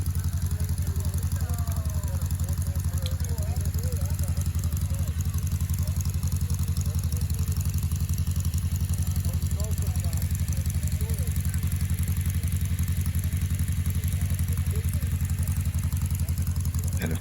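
A Porsche 356 four-cam engine idles roughly, loudly and continuously through a small exhaust, a deep throbbing rumble with faint clatter, no pauses throughout.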